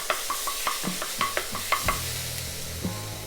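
Beyond Meat plant-based ground meat sizzling in a hot pan for vegan tacos, with a string of sharp utensil clicks and scrapes as it is stirred and broken up, then a steadier low frying hiss.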